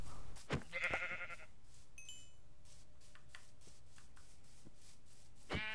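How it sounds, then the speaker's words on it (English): A sheep bleats once, short and nasal, in the Minecraft video game. Soft shuffling and footstep-like rustles follow over a quiet background. "Hey, it's another sheep."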